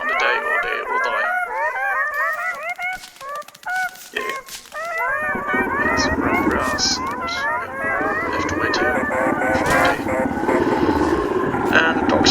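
Hounds howl repeatedly in the survival game Don't Starve, a chorus of rising and falling cries that swells louder in the second half, mixed with game sounds while a person talks over them.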